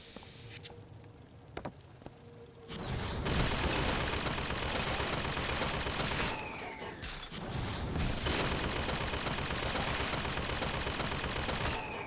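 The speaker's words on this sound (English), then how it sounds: "That's a turret." A turret in BioShock Infinite: Burial at Sea fires sustained rapid bursts, loud and close, as dense continuous gunfire that breaks off briefly and then resumes.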